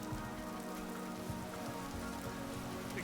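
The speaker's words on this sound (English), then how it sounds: "It started raining." Rain falling in the video game Vintage Story, a dense, steady patter of drops on surfaces heard alone and fairly close throughout.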